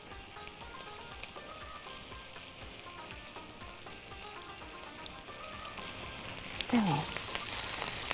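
Onions rubbed with flour and salt fry in hot ghee with a dense, steady crackling sizzle that swells slightly louder near the end, and a voice speaks briefly.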